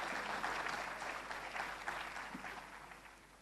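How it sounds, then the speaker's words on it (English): Audience at a lecture-series event applauds the woman introduced to give the opening prayer: a steady, moderately distant wash of clapping that holds for several seconds and slowly tapers. "please let's receive her with a warm round of applause"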